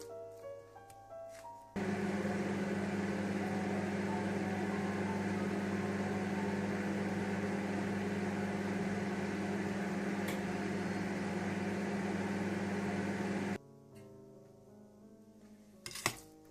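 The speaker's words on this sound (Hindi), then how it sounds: "इसे मैं 1 मिनट के लिए और माइक्रोवेव में रखूंगी।" A steady microwave oven hum with a low droning tone runs for about twelve seconds while cooking khoya (mawa), then cuts off abruptly, leaving quieter background sounds and a faint click.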